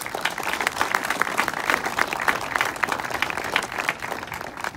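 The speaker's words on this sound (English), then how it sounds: "So another round of applause, please, for not just Chris Glynn taking the bull by the horns for this project" An audience at a school athletic Hall of Fame unveiling applauds: steady, dense clapping from a crowd, moderately loud, with no talk over it.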